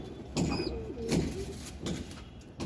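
Pigeons kept with their young coo softly at close range, several short throaty coos arriving in loose bursts over a quiet background.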